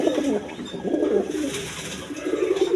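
Several exhibition pigeons, including a cream bar colored pair, coo in soft, repeated throaty rolls at close range, with the low murmuring continuing steadily and no talk over it.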